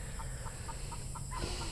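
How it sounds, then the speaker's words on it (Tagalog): A hen clucks in a steady series of soft, evenly spaced notes against a constant background hum, ending with a slightly higher cluck. "So, manok, nandyan pagala."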